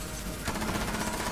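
Automatic gunfire in Rainbow Six Siege, a rapid burst of close, rattling shots beginning halfway through after a quieter moment.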